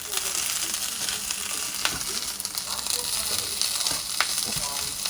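Barley sausage kiszka frying in a pan on a stovetop, a loud, steady, close sizzle and hiss with occasional pops and spatula scrapes throughout.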